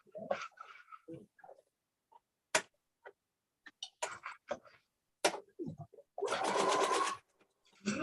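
Sewing machine stitching quilt pieces for a Daydream quilt, a steady whirring burst of about one second near the end, with scattered clicks and brief handling noises before it.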